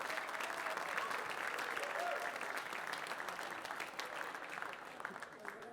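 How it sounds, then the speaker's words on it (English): An audience at a hall of fame induction ceremony at halftime applauds the inductees, a broad steady roar of many hands clapping that slowly thins near the end, with some crowd voices underneath. "you guys are all kind enough to clap for people that you don't know"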